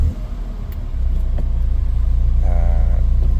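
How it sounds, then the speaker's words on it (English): Engine of a MINI F Series car turning over and catching, the rumble rising into a steady close idle after about a second, with a brief tonal chime partway through. "if I start the car"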